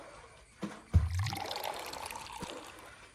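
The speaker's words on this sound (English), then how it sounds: "Click on the bucket in the well to fill it with water." Water pours into a bucket drawn from the Zamzam well in a children's Hajj learning game: a short click, then a brief splashing fill that trickles off, fairly quiet and alone.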